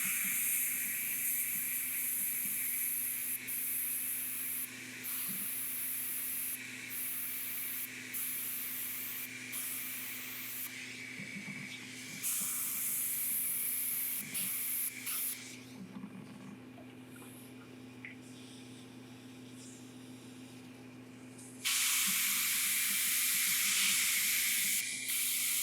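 An airbrush sprays paint onto a miniature model in steady, loud hissing bursts that start and stop repeatedly. A constant low hum runs under the spray, and no one speaks.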